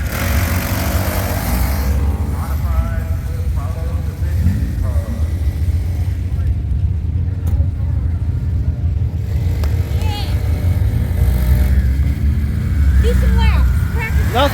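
A pit bike engine runs steadily during a ride near a race track before qualifying, a continuous loud motor drone with rises in revs, heard alongside other engine noise and people talking.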